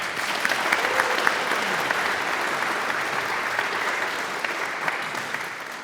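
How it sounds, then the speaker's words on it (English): A university faculty awards ceremony crowd applauds Service Award winners, with dense, sustained clapping from a large indoor audience that fills the whole stretch evenly. "Let's give our Service Award winners one more round of applause."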